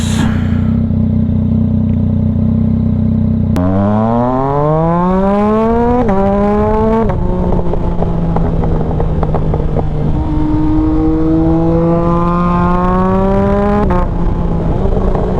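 A 2022 Yamaha XSR900 motorcycle fitted with a VCYCLENUT tune rides hard, its engine rising loud and steady through repeated pulls with clear gear shifts between. Wind roar sits underneath throughout.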